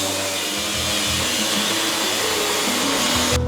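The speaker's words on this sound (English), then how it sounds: "I'll get the angle grinder." An angle grinder runs continuously at close range with a loud, steady whine during work on a Subaru widebody build, and no voices are heard over it.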